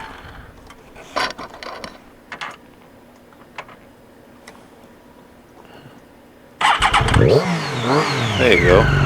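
A Triumph Daytona 675R motorcycle is cranked and fails to catch at first, with sparse clicks and starter attempts before a loud engine roar bursts in near the end; a rider talks over it.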